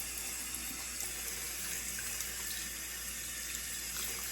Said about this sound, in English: just gonna do cool to lukewarm water, rinse through